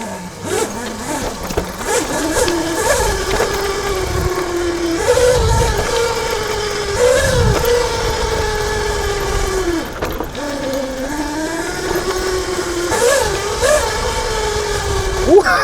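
A 13 kW, 84 V electric dirt bike pitbike accelerating hard, its motor giving a rising and falling electric whine with surges of drive noise, close and loud throughout, while a rider talks over it.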